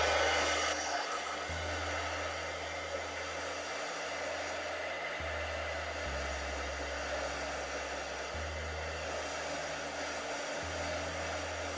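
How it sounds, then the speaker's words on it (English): A heat gun blasts steadily to dry chalk ink on a craft project, a continuous loud airflow roar that holds for the whole stretch with slight shifts in its low hum. "I'm just going to give it a quick blast with the heat gun to dry it off"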